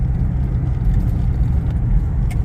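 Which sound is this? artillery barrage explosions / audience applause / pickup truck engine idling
pickup truck engine idling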